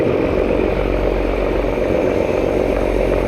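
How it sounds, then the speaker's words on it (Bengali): The MV Adventure 9 passenger launch running fast on the river, a loud, steady engine drone with deep low rumble and broad churning noise, unbroken and heard from close by. "অ্যাডভেঞ্চার 9 লঞ্চটি কিন্তু সেই দ্রুতগামী লঞ্চ।"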